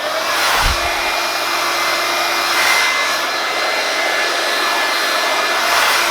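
A Panasonic EH-NA65CN hair dryer runs on full blast, a loud, steady airy roar with a thin whine, one brief low thump near the start and no talking.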